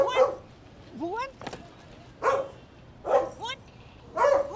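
A dog barks and yelps in short bursts at moderate distance, repeated several times with pauses between, under excited talk.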